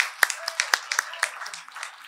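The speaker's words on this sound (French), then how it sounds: "moi, je dis qu'on les applaudit." Scattered claps from a church audience applauding a group of teenagers, a few sharp hand claps spaced irregularly over a soft murmur of voices in the room.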